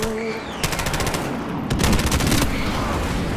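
Skorpion submachine gun fire in Modern Warfare Remastered: two fast, rattling automatic bursts, the second longer and louder, with a short pause between them.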